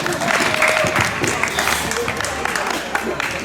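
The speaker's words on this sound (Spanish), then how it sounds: "Aplausos, por favor" Applause from an audience at a golden wedding anniversary celebration, a steady dense patter of clapping sustained throughout with crowd noise mixed in.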